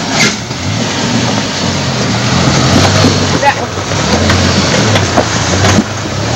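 A 4x4 off-road vehicle driven through the Badlands at a 2003 off-road event, its engine a steady loud rumble with rough wind and terrain noise throughout, and people talking over it.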